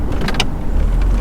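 A Volvo 240 car waits in traffic with its engine running, a low steady rumble close by, and two brief bursts of higher noise break in near the start.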